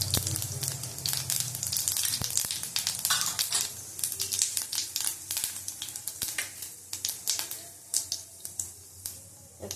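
Panch phoron seeds crackle and sizzle in hot oil in a home kitchen while lunch is cooked, a dense, busy fizz with sharp pops scattered throughout, no talk.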